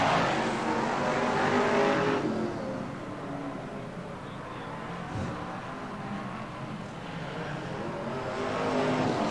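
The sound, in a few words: BriSCA Formula 1 stock cars racing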